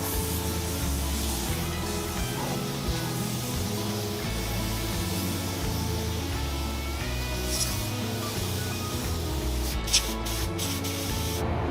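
A spray gun steadily hisses black sealer onto a car body, a continuous close airy spray with a constant compressor-like drone underneath, ending with a few brief clicks.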